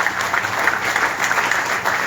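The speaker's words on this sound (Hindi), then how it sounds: "तालियां करें" Steady applause from an audience at a press club discussion on AI and education, dense clapping at an even level throughout the two seconds, with no voices rising above it.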